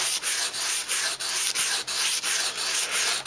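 A damaged kitchen knife is drawn across sandpaper in quick, even strokes, close and loud, about ten rhythmic rasping passes with short gaps between them and no voices.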